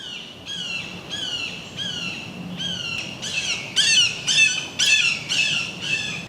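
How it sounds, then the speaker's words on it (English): Hawk calling from a nest in woods, a loud series of repeated sharp squawking cries in a steady rhythm, growing stronger toward the end, heard alone without talk. "I think we have a hawk nest in our woods, so they have been extra loud lately"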